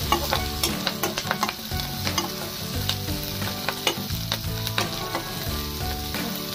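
Turmeric stirred into frying masala with coriander for a bread pakora potato filling, a steady close sizzle broken by repeated spoon scrapes and clinks against the pan.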